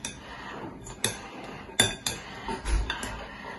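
Utensils scrape and clink against a dish while tuna salad seasoned with red wine vinegar is mixed, several sharp metallic taps spaced irregularly among softer stirring noises, close up and with no talking.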